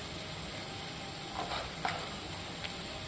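Onion with turmeric, coriander, cumin and chili powders, salt and a little sugar frying in a pan for a rui fish curry: a steady, close sizzle with a few soft stirring scrapes and no talk.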